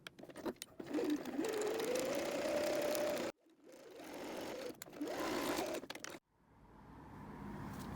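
A sewing machine backstitches a seam on a canvas pencil pouch in two loud runs of steady whirring, each ending in an abrupt stop, then a brief quieter hum.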